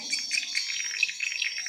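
Swiftlet calls played through a tweeter speaker inside a swiftlet house, rapid high chirps twittering continuously with a thin, tinny tone, close and moderate in level.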